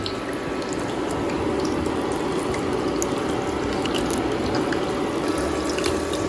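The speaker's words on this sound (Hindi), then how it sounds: "सारे विंग्स इसमें डाल रही हूँ, ताकि जितनी देर वो फ्राई हो रहे हैं" Chicken wings frying in hot oil make a dense, steady sizzle with constant crackling and popping that holds loud and close throughout, with no talking.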